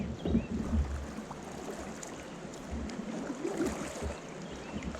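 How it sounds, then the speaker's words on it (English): Water spilling over a river dam on the Little Miami River makes a soft, steady rushing wash, heard from a distance at a fairly quiet level with no talking. "water falling."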